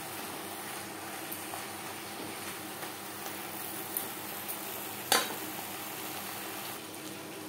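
Ridge gourd cooking with spices in a pan, stirred on medium flame: a steady low sizzle with soft scraping strokes and one sharp clink of utensil against pan near the end.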